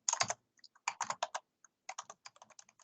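Typing on a computer keyboard while writing a simple hello world program: bursts of crisp, rapid keystrokes in irregular clusters with short pauses between, close and clear with no talking.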